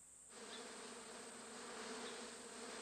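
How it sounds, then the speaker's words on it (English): Small stingless bees, which build nests from tree resin, hum in a close, continuous buzz that starts abruptly after a brief quiet moment and holds steady and even throughout. "These little bees are stingless."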